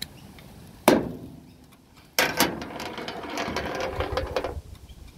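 A ratchet wrench loosens bolts while a GEN1500 generator is torn down at a junkyard: one sharp knock, a pause, then a couple of seconds of fast, dense, close ratcheting clicks that stop abruptly.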